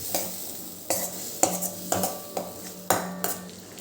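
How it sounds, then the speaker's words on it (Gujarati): Ginger-chili paste sautéing in oil in a pan, with a steady low sizzle broken by a spatula scraping and stirring roughly every half second, close and fairly loud, no voices. "અને એક ટીસ્પૂન જેટલા આદુને મરચાંની પેસ્ટ એડ કરીશું હવે આને આપણે બરાબર સાંતળીશું"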